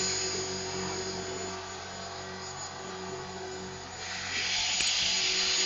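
A remote-control helicopter with a bad, noisy gear flies nearby, giving a steady high whine and buzzing hiss that holds throughout and swells louder near the end, with no talk over it.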